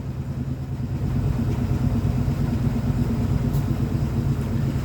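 A 1947 Cadillac four-door sedan idles after a cold start, its engine a steady, quiet low rumble with a smooth, even beat throughout.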